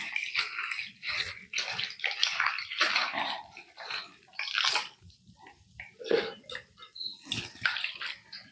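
Spinach leaves are washed by hand under running tap water. The splashing and sloshing is close and fairly loud, coming in uneven bursts with no speech.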